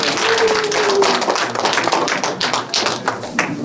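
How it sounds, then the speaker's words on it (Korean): An audience at a humanities lecture applauds, with many hands clapping in a dense, loud patter and a brief tonal note near the start. "큰 박수로 끝내겠습니다"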